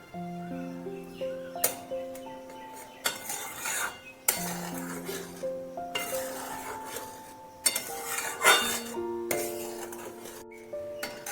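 A utensil stirs poppy seed paste into a pot of amra sour dish, giving repeated scraping and clinking strokes against the cookware in short bursts with brief pauses, up close and with no talking.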